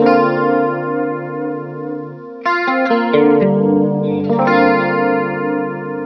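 Electric guitar chords through a doubling pedal on a pedalboard ring out with thick, shimmering doubled tones, a sustained chord, then a run of quick strummed chord changes, loud and close with no voices.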